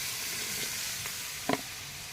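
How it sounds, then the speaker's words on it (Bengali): Water poured into a hot pan of fried prawn kofta sets off a steady, hissing sizzle that runs throughout, with a few brief stirring clinks near the end. "আমি কিন্তু এখন এর ভিতরে জল দিয়ে দেবো।"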